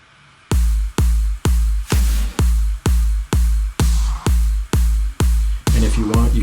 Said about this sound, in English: I've also got this little snare effects here and there.